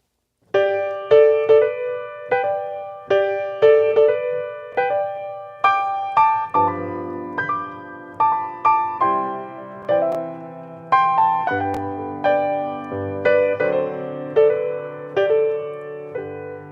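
Piano plays a waltz in slip-note style, with a harmony note sounding just above each melody note, in a lilting waltz rhythm with repeated struck chords, clear and close.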